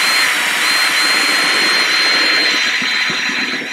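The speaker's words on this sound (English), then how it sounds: "Now all we do is we just put that on our marker there and we drill in." A power drill bores a hole through a plastic tub, a loud continuous whining drone held steady throughout without pause.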